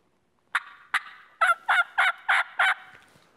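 A series of seven loud, rasping hen yelps from a hunter's turkey call aimed at a roosted turkey, the first two spaced apart and the rest coming in a quick, steady run, close to the microphone.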